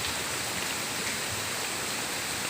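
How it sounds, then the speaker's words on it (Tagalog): Heavy storm rain pours down steadily near an outdoor cooking spot, a dense, even hiss filling the whole moment with no gaps and no voices. "at malakas na ang ulan. Bumabagyo na."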